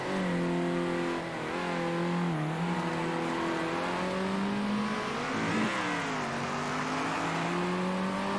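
Racing car engines from the video game Circuit Superstars drone and rev in close overlapping layers, pitch rising and falling as they shift gears, loud and continuous.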